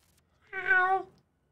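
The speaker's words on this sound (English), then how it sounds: "Oh, another kitty cat." A single clear cat meow from a PS5 game trailer, a short tonal call lasting under a second, close and isolated against silence.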